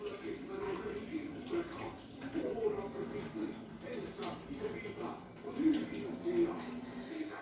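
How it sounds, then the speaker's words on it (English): Dirty rinse water from washing black-eyed beans being poured away into a sink: a soft, uneven trickle and splash running for several seconds, with a voice speaking over it. "You see how it's very dirty? So you pour away this water."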